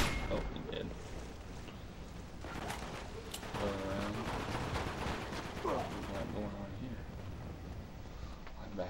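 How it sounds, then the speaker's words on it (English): Pistol shots in Uncharted 2 multiplayer on The Lost City, several sharp bangs scattered among game effects and other gunfire, with voices talking throughout. "One shot. Pistol in the back of the head."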